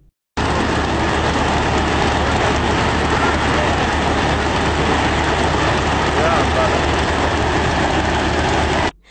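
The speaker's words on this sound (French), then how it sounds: "Le vol KHKR-45AR, hélice battante, ronronne ici à la Patte d'Oie dans l'arrondissement 12 de Ouagadougou." A homemade airplane's engine and propeller run steadily before takeoff at Patte d'Oie in Ouagadougou's 12th district, producing a loud, continuous broadband drone that holds for about eight seconds and then cuts off.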